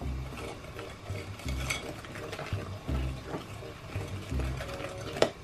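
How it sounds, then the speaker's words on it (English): A small kitchen blender or mixer churns brownie batter, a rhythmic whirring and clattering in repeated bursts, close and moderately loud. "you need this blender, guys, so you can blend the brownies"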